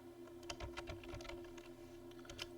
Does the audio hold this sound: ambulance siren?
no